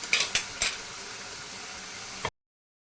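Ginger and shallot paste fries in oil in a clay pot with a soft, steady sizzle, while a metal spoon clinks against the pot three times early on as it is stirred, then a final scrape.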